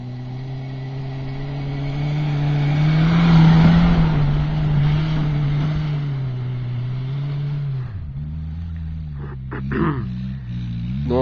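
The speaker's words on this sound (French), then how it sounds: "c'est les tests de maniabilité pour voir si la voiture fonctionne bien, réagit bien aux commandes" Renault 4L van driving during a handling test, with its small engine droning steadily close by, rising to a louder strained pitch and then easing, with sharp revving changes near the end.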